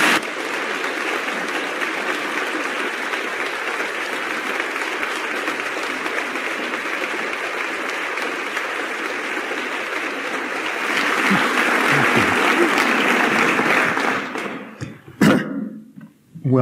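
A lecture audience gives a sustained round of applause welcoming Robert Sapolsky to the stage, steady dense clapping that swells louder near the end before tapering off into scattered claps.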